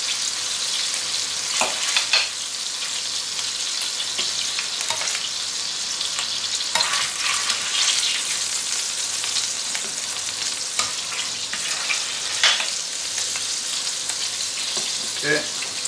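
Pork pieces sizzle and crackle steadily in a cooking pan of hot fat and oil, a continuous close hiss with occasional sharper pops and light stirring clicks, no voices.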